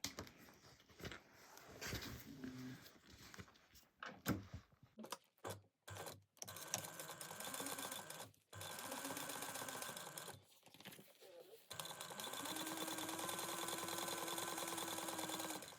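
A domestic sewing machine top-stitching a fold-over fabric bag, running in bursts of rapid mechanical whirring separated by short pauses, then a longer continuous stretch at the end, close and clear with no talking.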